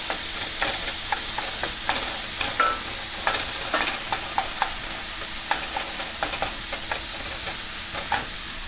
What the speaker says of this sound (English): Give these a good stir.